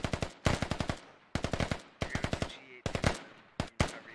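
Squad gunfire in a video game battle, loud close bursts of rapid automatic shots in several rhythmic volleys separated by brief pauses.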